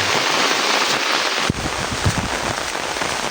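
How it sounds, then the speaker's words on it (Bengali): Heavy rain pours outdoors on a guided walk toward Utmachara in Sylhet, a loud, unbroken roar of drops with a brief gust of wind buffeting the microphone. "সাথে প্রচুর বৃষ্টি হচ্ছে আজকে।"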